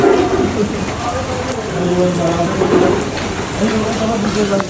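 Rain falls steadily outdoors at a lantern-flying spot in Taiwan, a dense, even hiss throughout, with people talking over it.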